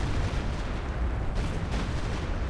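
A mortar pit fires artillery in a real-time strategy video game, giving heavy booming blasts and explosions that blur into a dense, rolling barrage heard up close, with no voices.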